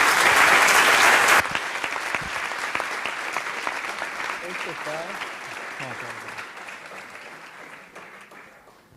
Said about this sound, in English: Please, another round of applause for Joe.